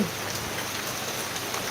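Rain falls steadily as a dense, even hiss that fills the whole clip. The downpour is close and constant with no pauses, and no one speaks over it.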